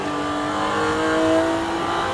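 Porsche GT4 engine pulling hard on a racetrack with elevation changes, a loud steady rasping drone that climbs smoothly in pitch as the car accelerates, close and continuous with no talk.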